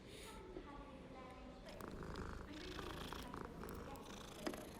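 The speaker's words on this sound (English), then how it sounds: "Another cat." A cat purring in the video game Hogwarts Legacy, a soft, steady rumbling purr close up, with faint game sounds and brief talk.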